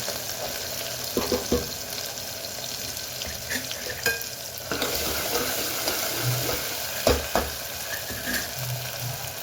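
Tomatoes, onions and mixed vegetables frying in a pan, a steady close sizzle with scattered stirring clatters and scrapes, no voices.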